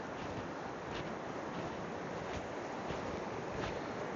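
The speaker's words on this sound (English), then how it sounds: "I hear the river and I see the fall" A river and waterfall on Vancouver Island pour in a steady, dense broadband rush, constant and fairly loud with no pauses.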